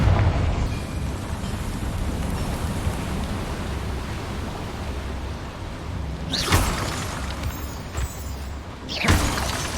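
A Confringo blasting spell in Hogwarts Legacy: a long, steady roar of noise is broken by two sharp, bright blasts close together near the end, each with a shattering crack. No voices are heard.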